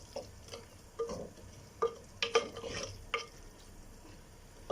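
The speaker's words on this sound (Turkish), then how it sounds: "Karıştırıyorum." A spoon stirs chopped tomatoes and garlic in a pot for a Turkish pastrami and dried bean stew, giving soft scraping and clinking strokes in an irregular rhythm over a faint sizzle, close and quiet with no talking.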